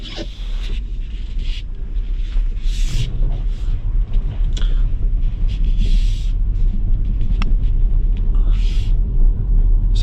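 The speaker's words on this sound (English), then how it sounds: "I'm driving this down a very flooded road at the moment, same country road that I'm always on" Tesla Model Y driving down a flooded country road, with a steady heavy rumble of tyres through water and spray hissing and swooshing in surges throughout, close and loud, with no talking.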